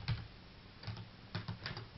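Someone types an email address on a computer keyboard, producing quiet, close key taps in small irregular clusters.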